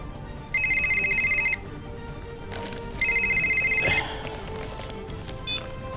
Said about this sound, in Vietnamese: tôi quên tắt chuông điện thoại